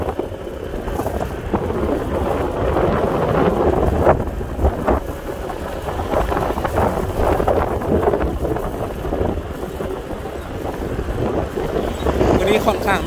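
Outdoors in Laos ahead of a storm, wind buffets steadily with constant blustery rumble and gusty noise across the whole stretch, fairly loud and close.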